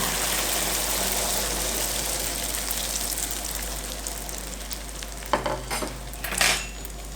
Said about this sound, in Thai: สามารถเทไข่ลงไปทอดได้เลยค่ะ